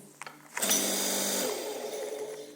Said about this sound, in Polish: Dwa elementy wirują, czyli tarcza szlifierska, jak i wirnik.